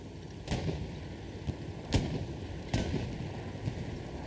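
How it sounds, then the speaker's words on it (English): Rocket and tank fire in Hell Let Loose, several distant booming shots spaced a second or so apart over a steady low battlefield rumble, each with a sharp crack and short echoing tail. "Now this 76 is spotted out here and taking shots. Rocket shot coming out from the Allies at infantry."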